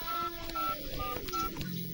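Emergency number being dialed on a mobile phone, a short sequence of distinct keypad tones beeping one after another in a quiet setting.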